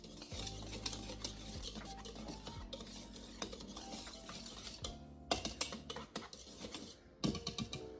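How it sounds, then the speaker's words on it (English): Dry cookie ingredients including salt whisked in a bowl, a quiet steady scraping stir with occasional sharper taps and clinks of the whisk against the bowl, close and alone. "Whisk all of these ingredients together really well."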